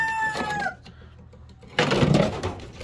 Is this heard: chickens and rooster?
yes